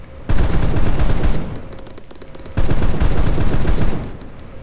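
Machine gun fired by a vehicle gunner in the video game Arma 3, two sustained loud bursts of rapid automatic fire separated by a short pause, with distant shots trailing at the end.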